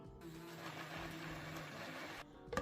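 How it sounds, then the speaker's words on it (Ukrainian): An electric blender whirs steadily while blending a sauce of sour cream and mayonnaise with salt and pepper, giving a continuous, faint motor hum that cuts off near the end, followed by a small clatter. "За смаком солимо та першимо і перебиваємо це блендером."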